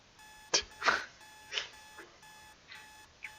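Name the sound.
alarm clock beeping in a video game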